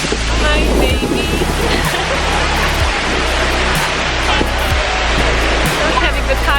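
The Llanos De Cortes waterfall in Costa Rica gives a loud, constant roar of falling water that fills the whole stretch, close and unbroken, with a few low thumps beneath it.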